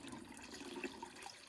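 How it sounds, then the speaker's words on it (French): Nettle manure liquid is poured slowly through a cloth into a bucket, making a soft, faint, steady trickle and splash that lasts the whole moment. "Et on verse doucement dessus."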